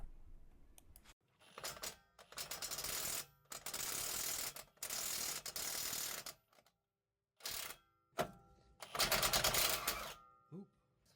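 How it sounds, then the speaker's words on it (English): A ratchet fitted with a 19mm socket loosens the U-bolts on a 2WD 2500 Sprinter van, producing close, loud runs of rapid clicking in several bursts separated by brief pauses. "a 19mm socket to loosen U-bolts on both sides."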